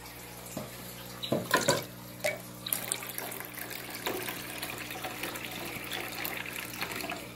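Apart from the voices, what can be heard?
pouring water into fish tanks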